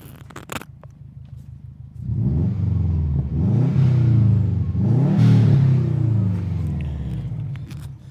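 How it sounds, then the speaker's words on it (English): Exhaust of a Subaru WRX GB270 2.5 saloon rises from a soft idle into a loud, close rev that swells and then falls back, with a turbo-like whoosh riding over the engine note. "Let's hear what this exhaust sounds like."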